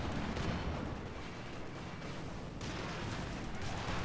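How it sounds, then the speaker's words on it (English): Missile strike in the strategy game Company of Heroes 2, a dense rumbling barrage of booming blasts that rolls on steadily and then swells again, with no voices over it. "Missile strike going in."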